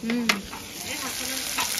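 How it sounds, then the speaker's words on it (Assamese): Fish sizzling in a pan, a constant hiss with soft crackles and a couple of brief stirring scrapes. "নতুন বোৱাৰীয়ে ইয়াত এনেকে মাছ ভাজি আছে।"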